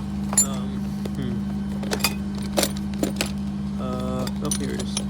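Metal tools clink and jangle in a few sharp bursts while someone hunts for a 3/8-inch drive ratchet during tie rod work on a 2005 Honda Accord, over a steady low hum with some speech.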